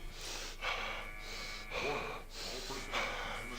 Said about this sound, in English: I question whether we need the breathing sound.